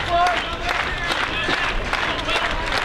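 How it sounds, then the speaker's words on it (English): A baseball crowd at a Victoria HarbourCats home game roars to urge on the pitcher chasing a strikeout, a dense wall of cheering, whistles and scattered clapping that stays loud and unbroken throughout. "Crowd urging him on"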